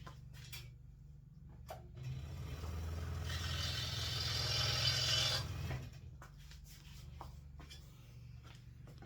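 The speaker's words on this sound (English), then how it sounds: "So I'm going to run over to the scroll saw. I'm just going to cut this dowel off here" A scroll saw cuts through a wooden dowel for a simple toy plane's axle, a steady buzzing drone rising for a few seconds and then stopping, close and loud with no talk.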